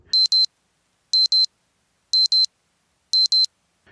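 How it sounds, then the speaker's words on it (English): A smoke alarm sounds loud, shrill electronic beeping in pairs, four double beeps repeating about once a second, with silence between. "Make sure they beep loud and clear through the air."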